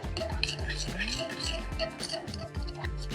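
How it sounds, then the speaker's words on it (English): Spoon stirring corn flour into a thick black pepper beef marinade in a bowl, steady scraping with repeated light clinks of metal against the bowl, close and continuous. "give it a big old stir"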